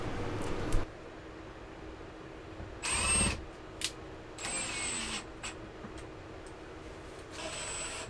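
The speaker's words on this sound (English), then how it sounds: "Kelly went through and drilled and countersunk all the holes" Power drill boring and countersinking holes in wooden trim boards inside a ProMaster camper van conversion, heard as a few short, separate whirring bursts against a quiet, steady background hiss.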